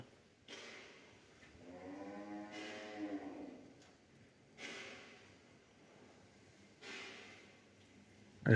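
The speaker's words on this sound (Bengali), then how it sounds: "একটা ঘির শাহিওয়ালি গরু" A Sahiwal cow on a farm gives one drawn-out low moo in the middle, with softer snorts and breathing before and after, heard close by.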